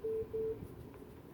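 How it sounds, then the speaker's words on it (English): A phone rings faintly, two short electronic ring pulses in quick succession, followed by quiet room tone. "I'm gonna pick up this ringing phone"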